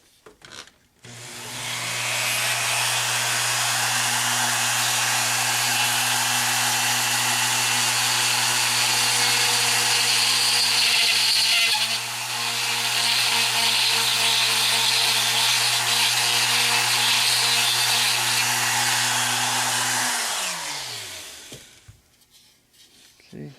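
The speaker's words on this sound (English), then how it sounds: "drill the hole at the top" A power drill whirs loudly and steadily for about twenty seconds, briefly dipping midway, then winds down to a stop, drilling a hole in a Hyundai Genesis Coupe tail light.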